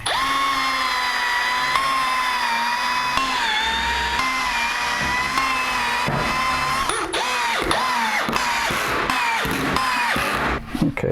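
A power drill drives 3/4-inch wood screws into a melamine table saw crosscut sled, whining in repeated bursts that climb and stop, the pulses coming shorter and choppier toward the end.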